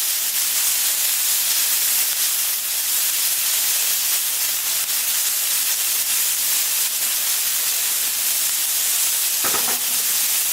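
Sirloin steak sears on a Camp Chef flat top griddle with a loud, even hiss and sizzle. The sound holds steady throughout, with a faint clink near the end.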